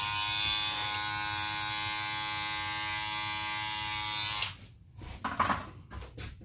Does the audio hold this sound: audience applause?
no